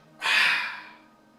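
A single forceful exhale releases a held breath during yoga breathing practice, a brief close rushing breath that fades out over about a second.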